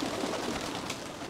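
A Kittel bloodline racing pigeon coos softly while held in someone's hands, a brief low murmuring call that stays close and steady throughout.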